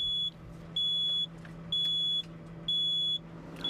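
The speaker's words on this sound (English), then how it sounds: "a buzzing sound can be heard to warn you that the attachment is now unlocked" An excavator quick coupler's warning buzzer signals that the attachment is unlocked, sounding as a steady, high-pitched electronic beep that pulses on and off about four times in a regular rhythm, clear and close over a low engine hum.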